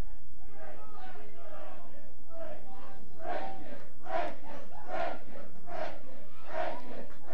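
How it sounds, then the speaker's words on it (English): Wrestling crowd at an AWA All Star Wrestling event in 1980 hollering and shouting in rhythmic bursts, loud and close, building in surges with rising cheers across the whole stretch. "Crowd hollering for Dino to break it."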